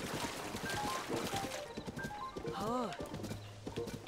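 Horse hooves clip-clopping and a short rising-falling neigh from a horse in the video game Tears of the Kingdom, close and clear, with a person talking over it.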